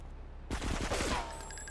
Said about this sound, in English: So now we just go in and fight with our guns.